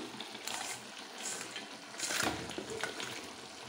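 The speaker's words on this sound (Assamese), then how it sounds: "এইখিনি মাছখিনি দিওঁ এতিয়া ভাজি ল'লোঁ" Fish pieces fry in a pan, a soft crackling sizzle that swells in short bursts as it is moved around, with faint clinks of utensils.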